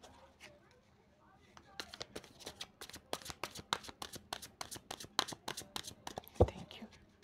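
Tarot cards are riffled and shuffled close by in a quick run of crisp slaps and flutters, with a soft voice murmuring underneath.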